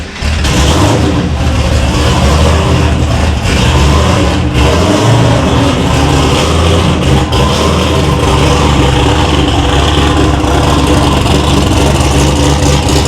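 Ford 363 stroker V8 roaring to life after sitting five months, then holding a loud, lumpy idle with occasional revs, steady and close throughout with no talking.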